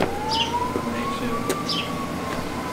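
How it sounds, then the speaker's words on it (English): Ambulance siren wails faintly in the background of a residential neighborhood in Loudoun County, Virginia, a thin steady tone over broad outdoor rumble, with a single brief spoken word. "you can hear the ambulance in the background"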